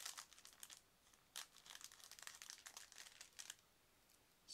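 Scissors cut into a plastic bag holding Zvezda 1/72 Petlyakov Pe-2 model kit sprues, giving quiet, close crinkling snips and rustles in short bursts, with no voices.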